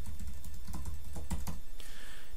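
Steady clatter of keys as an email address is typed on a Mac computer keyboard, fairly close and continuous with uneven bursts, no talking.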